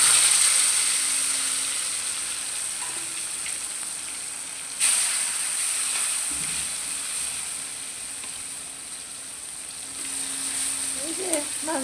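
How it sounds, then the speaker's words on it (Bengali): Koi and tilapia fish frying in hot oil give a continuous bright sizzling hiss, fading slightly then flaring again, with a few soft clinks and faint background voice. "এখন মাছগুলো ভেজে নেবো"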